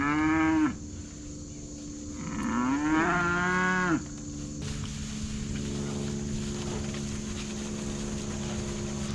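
Cattle and calves moo loudly and close by, two long drawn-out calls in the first four seconds, followed by steady low outdoor rumble and wind with no more calls.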